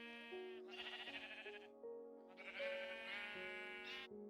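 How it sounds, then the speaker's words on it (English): Sheep in the video game Minecraft bleat repeatedly in close, overlapping wavering calls, with game music held underneath and no talk. "We'll pause so that we don't just have the sheep noises going in everybody's ears"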